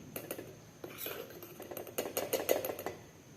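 A spoon stirring about two spoons of flour into melted ghee in a bowl to form a paste, a close run of quick metallic clinks and scrapes that grows busier toward the end, with no voice.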